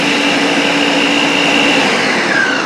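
A kitchen blender grinds cucumber and fruit into a summer drink. The motor whirs loud and steady and close, with no talk over it.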